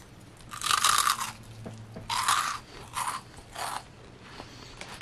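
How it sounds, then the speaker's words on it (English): Freeze-dried peach rings being crunched up close, several loud crisp bursts of biting and chewing with short pauses between them, fading to quieter chews at the end. "So next I'm trying freeze-dried peach rings,"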